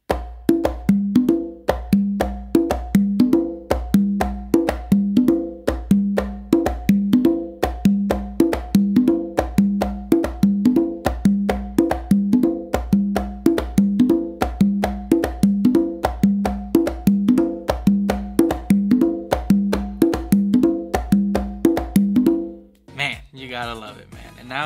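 Congas played in a steady merengue exercise, alternating open tones and slaps in a driving repeated pattern, loud and close for over twenty seconds before stopping abruptly, followed by a brief different sound.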